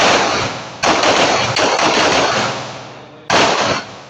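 Loud gunfire on a firing range after a firing command: a sharp blast opens a long ringing decay, and a second report follows a few seconds later, close and heavy.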